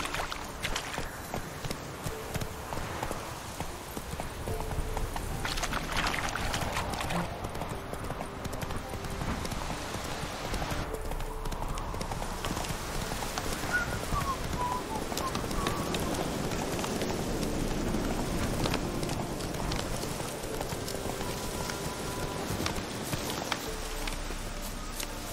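Hooves gallop steadily in The Witcher 3 as a horse runs, a continuous rhythmic clip-clop under game ambience and music, with voices speaking over it.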